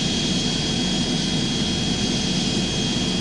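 Airplane engine drone from the Airplane Flight Simulator Evo video game on PS5 Pro, a steady jet-like roar with a thin high whine, continuous and even while the plane turns on its rudder.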